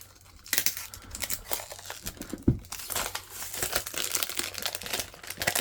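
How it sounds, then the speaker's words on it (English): Sealed packaging and labels on a Lord of the Rings trading card game anthology box being torn and peeled open, close crinkling and ripping plastic and paper in repeated bursts, no speech. "tearing these labels off after nearly 20 years"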